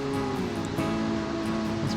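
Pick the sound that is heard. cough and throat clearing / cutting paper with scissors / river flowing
river flowing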